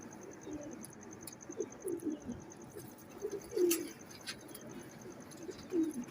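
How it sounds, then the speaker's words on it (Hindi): A breeder pigeon cooing in soft, low repeated phrases, faint and nearby, over a quiet background with a faint high electronic tone. "ब्रीडर कबूतर है ये"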